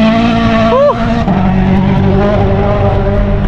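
A Hyundai rally car at the WRC Safari Rally in Kedong, Naivasha passes close and loud, its engine note roaring and shifting pitch as it goes by, with spectators' voices mixed in.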